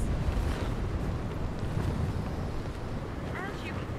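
Strong wind roars and buffets continuously at night, a dense rushing noise filling the whole clip with a faint high whine near the end.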